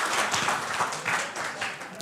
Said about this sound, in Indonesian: tepuk tangan dulu buat teman-teman semua ya